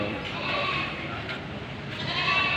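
Goats being raised for meat bleat on a farm under a steady wash of broadband noise, their calls faint and blended into the background while a person talks.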